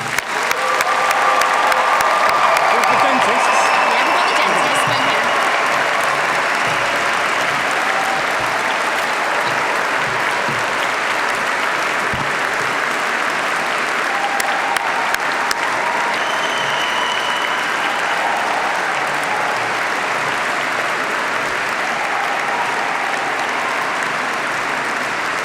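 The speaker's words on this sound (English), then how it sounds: "Shall we all give them a round of applause?" Sustained, loud applause from a large audience at a graduation ceremony for newly qualified doctors, a dense, steady roar of clapping that carries on without pause for the whole stretch.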